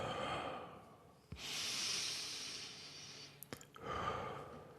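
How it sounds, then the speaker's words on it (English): Slow breathing, drawing air in through the nose and letting it out through the mouth: long, close, airy breaths that swell and fade, with a faint click between them and no talking. "breathing the correct way, which is in through your nose, inhale and exhale out of your mouth"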